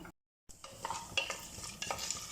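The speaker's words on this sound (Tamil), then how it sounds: "இதெல்லாம் அந்த கீயில் ஃப்ரை ஆகட்டும்." Pepper, cumin and cashew nuts frying in ghee for ven pongal, a steady crackling sizzle with a few louder pops and stirring scrapes after a brief silent gap, close and alone.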